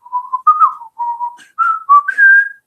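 Whistled melody in short, clear tonal phrases, several notes sliding and rising toward the end, loud and close with no talk over it.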